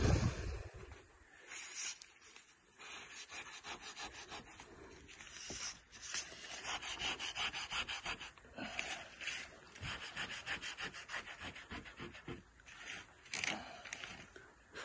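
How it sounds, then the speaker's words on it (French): Steady rubbing and rasping strokes during a home renovation, likely smoothing or wiping a surface, continuing in a dense, scratchy rhythm throughout with no talk over it. "Frotte bien, Jeannette."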